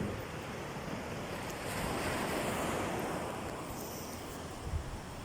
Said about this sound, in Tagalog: Nasa dagat po kami guys ng San Fabian.